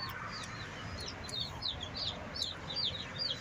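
Quails calling in quiet, repeated short chirps, steady and fairly close, over a low background hum with no talking.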